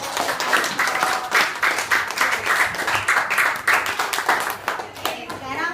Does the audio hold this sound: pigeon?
no